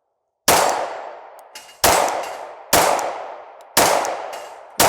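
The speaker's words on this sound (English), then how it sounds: "let's take some shots at that human-sized guy first" Four loud gunshots from a handgun fitted with a Streamlight weapon light, fired at steel targets and plates at an outdoor range, spaced evenly with ringing decay and a faint metallic ping after each.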